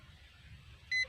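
A continuity tester's buzzer gives one short, clear electronic beep as its probes touch a mini chainsaw switch contact and body ground, against a quiet background.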